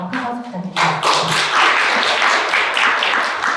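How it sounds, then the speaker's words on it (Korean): Audience at the 2023 Jeju public-interest activity forum bursts into sustained, dense applause after a brief spoken introduction, the clapping filling the hall steadily to the end. "다시 한번 큰 박수 부탁드립니다."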